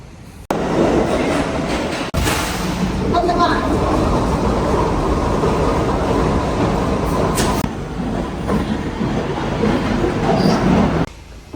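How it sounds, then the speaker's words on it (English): A New York subway train rumbles loudly and steadily on the tracks, with rattling wheels and brief screeches, close by for most of the stretch. "We're experiencing the subway stations of New York."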